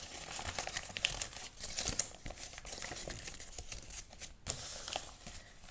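A crumpled sheet of paper is pulled open and flattened up close, a faint, continuous stream of crackling and rustling crinkles lasting several seconds with no voices.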